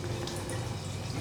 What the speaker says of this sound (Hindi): जिम जाने से पहले थोड़ा सा पानी बॉटल में भर के ले जाना पड़ता है